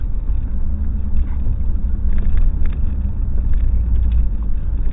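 A truck driving along a rutted dirt Forest Service road in the Dragoon Mountains, with a steady loud rumble of engine and tires and bumps jolting through the cabin, close and continuous.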